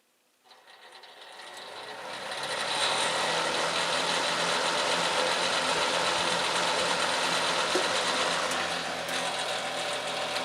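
An Optimus space heater's fan runs steadily for about ten seconds after starting up, with a loud continuous whir and a clear mechanical rattle throughout and no talking.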